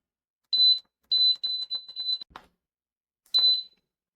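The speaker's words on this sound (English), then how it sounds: "You had to beep that, meaning it's time for me to come back and close off the vent." Pressure canner sounding a string of bright electronic beeps at the end of its exhaust cycle while canning beef in wine sauce, several short tones in quick succession, a pause, then one more beep, close and clear with no talk.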